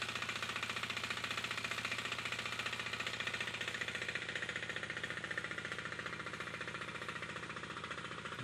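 A tractor engine runs in a rice paddy during transplanting, with a steady, rapid, knocking chug that stays loud and even throughout.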